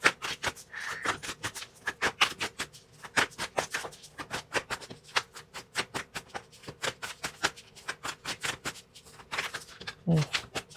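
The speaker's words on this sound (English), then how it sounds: "I'm having trouble shuffling today" Rapid, crisp riffling of tarot cards repeats in quick bursts, close by, with a few soft taps between shuffles.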